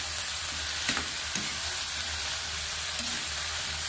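Vegetables for lumpiang gulay sizzle steadily in a hot pan while being mixed, the continuous frying hiss broken by a few soft scrapes and clicks of the utensil, close and even.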